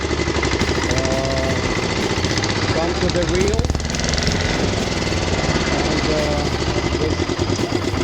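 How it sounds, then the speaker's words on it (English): The engine of a mobile sugarcane machine chugs loudly and steadily in a fast rattling rhythm. Someone speaks briefly over it. "It's a mobile sugarcane machine. Same engine."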